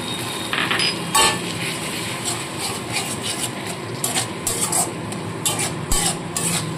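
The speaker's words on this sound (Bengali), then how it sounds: "সেই মশলাটা গুলে দিয়ে দিচ্ছি।" A spoon scrapes and clinks irregularly against a bowl while spice paste is stirred with water for a small-fish jhal curry. The taps and rubbing strokes are close and fairly loud.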